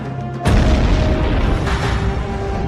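A single loud, close bomb explosion erupts with a sharp onset and then rolls on as a rumbling boom that holds strong for over two seconds, no voices.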